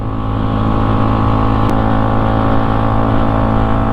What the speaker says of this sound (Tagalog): lumalabas pa rin yung tunog nyo sa tambucho